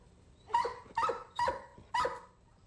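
A dog on a late-night television stage barks four times at an even pace, each bark short, clear and close.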